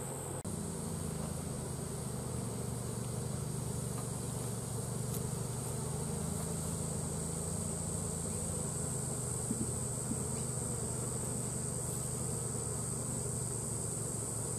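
Honeybees buzz around an open hive as brood frames are lifted into a nuc box, a steady close droning hum that holds evenly throughout with no voices.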